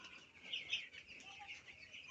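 Thirteen-day-old broiler chickens in a poultry shed give off a faint, steady chorus of high chirps and soft clucks, with no talking.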